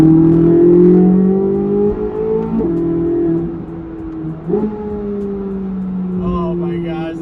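A Corvette Z06 with a naturally aspirated V8 holds a loud, sustained engine drone that drops in pitch with a couple of abrupt shifts, heard up close from inside the car.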